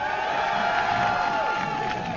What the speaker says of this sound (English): let me hear you guys cheer for Epic